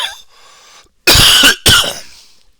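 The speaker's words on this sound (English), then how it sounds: "Had to get that morning cough out." A person coughs hard in the morning to clear a congested chest: a faint throat clear, then two loud, close, harsh barking coughs in quick succession, each trailing off into a wheezy breath.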